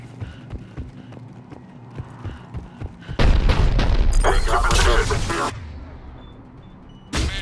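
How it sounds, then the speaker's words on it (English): Heavy cannon fire in a sci-fi battle from the game Mass Effect, a loud sustained barrage of booming blasts that starts partway in, follows quieter rhythmic thuds, and ends with a final sharp burst, with voices talking in the background. "The cannon fire is clearing the way."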